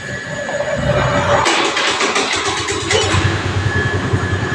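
A Honda Activa scooter is started with its electric self-starter, a brief cranking burst that catches into a running engine with a buzzy mid-pitched idle, close to the microphone.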